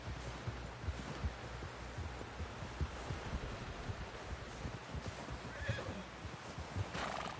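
A horse whinnies in Red Dead Redemption 2 Online amid continuous clip-clopping hooves and rustling, with a brief higher neigh toward the end over busy outdoor noise.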